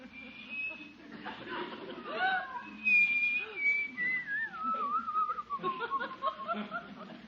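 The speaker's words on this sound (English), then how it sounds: "You just gonna sit there and whistle all night?" A man whistles a wavering, sliding tune, soft and close, with quiet chuckles and murmured voices around it in an indoor scene.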